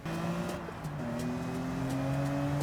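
A stock 2003 BMW M3 in the Gran Turismo 7 racing game revs steadily under acceleration, with rising engine harmonics and a brief dip as it shifts gear, loud and continuous.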